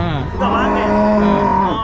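A cow on a small dairy farm lets out one long, close, loud moo that rises and holds for nearly two seconds.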